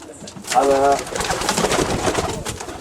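Pigeons in a loft coo with a brief burst of throaty calls near the start, followed by a busy wash of fluttering and rustling noise throughout.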